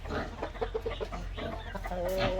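Hens cluck in short, repeated notes in a battery cage setup against a steady background hum, fairly close and moderately loud, with a rooster-like call near the end.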